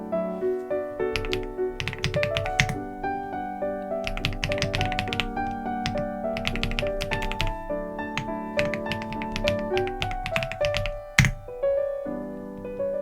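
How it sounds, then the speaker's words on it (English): A command is typed on a computer keyboard in quick bursts of crisp key clicks and taps, with steady musical tones running underneath throughout. "just type this command in your terminal"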